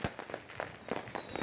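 New Year's Eve fireworks in Merauke, Papua: a rapid string of distant crackling pops and bangs in an irregular rhythm, fairly faint, with no voices.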